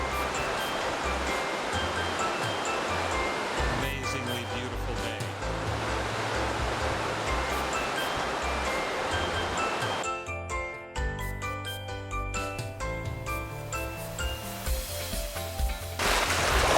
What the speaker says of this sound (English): This is Baker Lake at the Swift Creek picnic area and boat launch